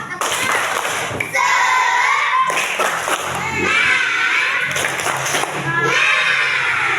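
Children in an Indonesian classroom do the tepuk semangat clapping chant, with loud rhythmic group claps in patterned bursts interleaved with shouted chanting voices and short pauses.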